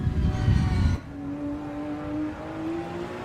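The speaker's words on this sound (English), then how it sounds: "Just listen to this beautiful motor." A GT4 race car engine at the Estoril circuit, most likely in a racing game, drones steadily after a louder opening burst, its pitch climbing gradually as it revs through a gear, with no voices.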